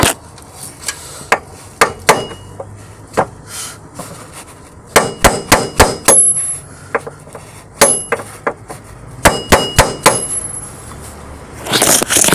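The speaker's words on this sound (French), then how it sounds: "Burin. Et on va le taper légèrement sur le côté." A metal chisel is tapped against the engine mount of a Peugeot 206 HDi, giving a series of sharp, ringing metallic clinks in irregular bursts, close and distinct with no talk.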